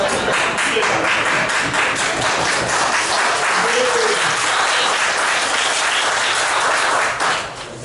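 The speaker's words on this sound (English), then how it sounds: "We appreciate the hand claps from those of you that come for us." Audience hand clapping at a small-town board meeting in Pelahatchie, a dense, steady round of applause filling the room for several seconds before tapering off at the end.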